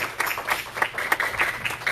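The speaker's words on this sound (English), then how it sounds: "Let's give her a hand clap of praise." A church congregation claps hands in praise during a Sunday morning service, with moderately loud, slightly uneven bursts of clapping repeating across the whole moment.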